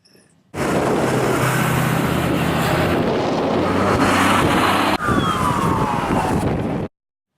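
A rescue vehicle siren passes along the newly opened Chief Peguis Trail road, half buried in loud wind and road roar, its tone sliding lower as it goes by.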